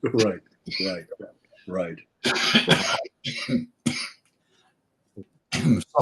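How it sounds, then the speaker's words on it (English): A few short coughs break up close conversational speech during an interview, with brief pauses between bursts. "It's a sympathy cough."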